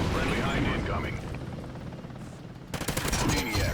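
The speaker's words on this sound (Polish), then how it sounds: "Helikopter." A helicopter in the multiplayer video game Call of Duty: Ghosts thrums under rapid bursts of gunfire, loud and chaotic, with a sharp burst of rattling shots near the end.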